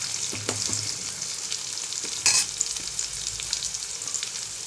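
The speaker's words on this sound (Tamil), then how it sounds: "நான் இப்போ வெங்காயம் போட்டிருக்கேன்" Onions frying in a pan for aval pongal give a continuous crackling sizzle, with a few clinks and scrapes of stirring and one brief louder burst partway through.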